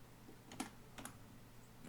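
A computer keyboard is typed on in a few quiet, separate taps, faint and close against a low steady hum, with no speech.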